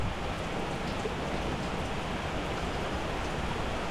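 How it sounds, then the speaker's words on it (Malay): Steady rain falls on a surface near a floating chalet by the water, a continuous even hiss with no breaks, with no talking. "Hujan."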